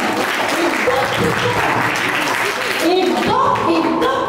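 An audience claps through a storytelling session about Gandhi's life, a dense, steady patter of hands that holds near and loud, with voices talking over it.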